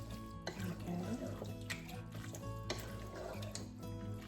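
A pasta dish stirred in a pan on a stovetop set to low, with soft scraping and gentle sizzling, a few clinks of utensil against the pan, close and fairly quiet.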